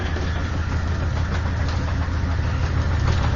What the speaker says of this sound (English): That sounds like a diesel.